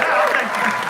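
Dense audience applause from a crowd, steady and fairly loud across the whole moment, with no break in the clapping.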